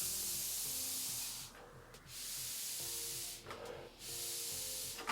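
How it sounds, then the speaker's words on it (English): Air pulled hard through a FUhattan clone tube vape, a steady close hiss in two long draws separated by brief pauses, no voices. "way more airflow coming through the FUhattan"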